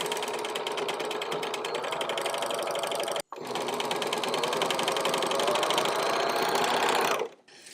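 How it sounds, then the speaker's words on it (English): A serger overlocks the cut edges of black jeans legs, a loud close mechanical whirr that runs continuously, breaks off for an instant, then resumes before winding down to a stop. "I'm first going to independently serge the edges."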